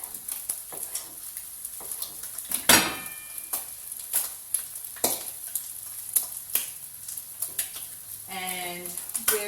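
Breakfast salad ingredients, including avocado, cooking in a pan, with a steady close sizzle broken by frequent stirring scrapes and utensil clinks against the pan.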